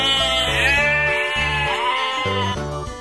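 A single long, wavering sheep bleat, loud and close, with light music playing underneath.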